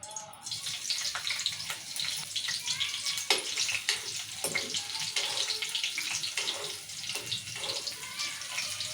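Green chillies fry in hot oil in a kadai for a bottle gourd curry, giving a loud, continuous crackling sizzle with sharp pops scattered throughout.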